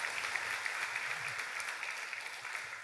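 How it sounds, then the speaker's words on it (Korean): A church congregation applauds in welcome during a Sunday worship service, a steady, fairly soft wash of clapping heard from a distance in the room with no clear voices over it. "우리 큰 박수로 환영하겠습니다."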